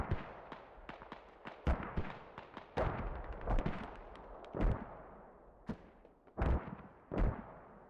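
Mortar and gunfire in the tactical shooter game Squad: a scatter of sharp booms and cracks at irregular intervals, some heavy deep thuds standing out among quicker distant pops, with no voices.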